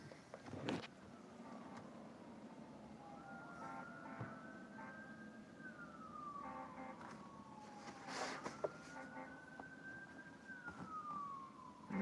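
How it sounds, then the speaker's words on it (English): Emergency vehicle sirens from fire trucks, wailing up and down in long sweeps at a distance, faint and set against low background rumble. "It sounds like fire trucks."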